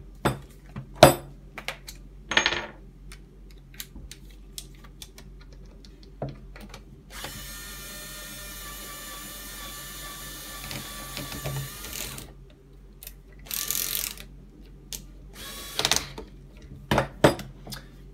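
Front wheel parts of a Bugaboo Cameleon 3 stroller being screwed back into place: scattered close clicks and ratcheting taps, then a steady mechanical whirring for about five seconds mid-clip, with no talking.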